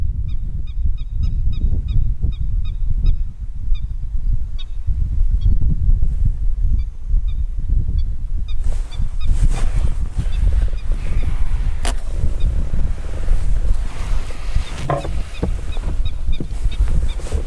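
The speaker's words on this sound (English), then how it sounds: "Let's listen to the bird calls." Busy bird calling in Botswana with many short high chirps and cries over a continuous low wind roar, growing denser and noisier in the second half.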